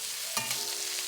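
Stir-fry vegetables with spring onions sizzle steadily in a hot pan, with a brief clatter and a surge of frying as the mix is stirred, close and moderately loud with no talking.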